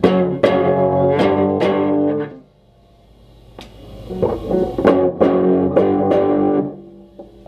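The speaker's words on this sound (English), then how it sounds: "so here's how the amp actually sounds." An electric guitar plays through a Carvin ST2400 amplifier with reverb and tremolo and the treble set low, giving a boomy tone; strummed chords and picked notes ring out loud and close, with a short pause midway.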